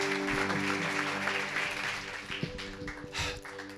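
Congregation in an Armenian church service applauding their pastor, a dense, steady wash of clapping filling the space for several seconds with a faint voice underneath.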